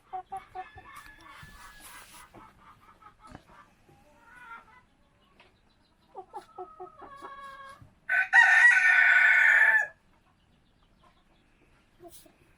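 Chickens cluck and chirp nearby, then a rooster lets out one loud, drawn-out crow before things settle back to quiet clucking.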